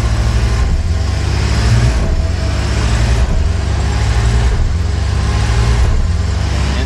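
A four-wheel drive vehicle's engine grinds along steadily while driving through deep, soft sugar sand, a loud continuous low rumble with slight surges in effort throughout.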